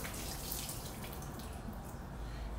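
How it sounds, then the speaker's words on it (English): Warm water pours out of a teapot during tea preparation, a steady splashing trickle at moderate closeness lasting a couple of seconds. "So I'm going to pour this out."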